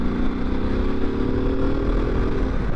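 Ducati DesertX motorcycle engine pulling steadily uphill in fourth gear at about 50 km/h through city traffic, a close, continuous droning hum with no pauses.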